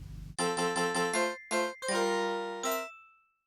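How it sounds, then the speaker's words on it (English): A ceiling ghost clapping its little hands in the Luigi's Mansion video game, heard as a bright chiming game cue of sustained tones in several bursts that rings out and fades, with no talking. "When a ceiling ghost comes down from the ceiling to drop a bomb or just to scare you,"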